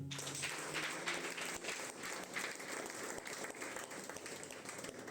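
Church congregation applauding in a sustained, dense wash of clapping throughout, steady and full in a reverberant worship hall, with no clear speech.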